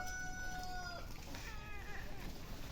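A pet cat called Murzik meows in a few rising, tonal cries close by over a steady background hum, with a short gap and some clucking-like noise between calls.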